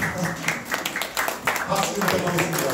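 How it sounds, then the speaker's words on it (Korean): An audience claps at a political event, with scattered, uneven applause rising and falling under someone speaking into a microphone. "박수 좀 부탁드리겠습니다."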